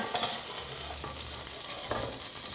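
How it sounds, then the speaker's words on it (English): A burger patty made with organ meat sizzles steadily in a hot pan, a dense crackling hiss with a few brief pops. "Sizzling."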